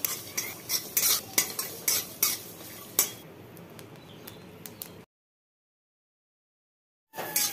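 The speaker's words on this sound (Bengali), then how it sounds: "দিয়ে দিলাম কড়াইতে, কালো জিরা দিয়ে দিলাম, সব শুকনো খোলায় ভাজতে হবে" Metal utensil scrapes and clinks against a wok as black cumin dry-roasts without oil, in irregular strokes, then a stretch of silence before stirring resumes briefly.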